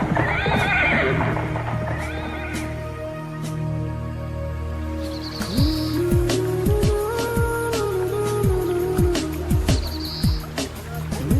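A horse whinnies loudly with long, shrill neighs while hooves clip-clop in a quick rhythmic run, close and prominent, with music in the background.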